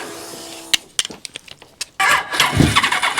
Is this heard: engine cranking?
yes